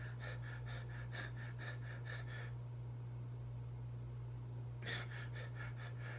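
Imitated cluster breathing before lifting: a person makes several short, rapid, hyperventilation-like breaths in quick bursts, a pause, then another burst, close and clear over a steady low hum.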